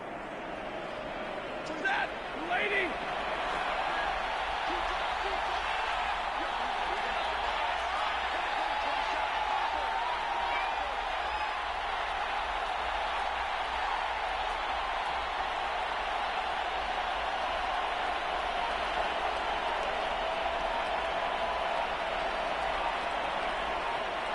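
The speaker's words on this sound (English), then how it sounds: "the home crowd applauding. They're happy with what they've seen." Home crowd in a PS4 American football video game applauding and cheering steadily as a continuous wash of crowd noise after a Rams victory, loud and sustained with no break.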